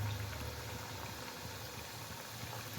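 Sweet dough frying in hot oil as a steady, soft bubbling hiss that stays even throughout, faint and without voices.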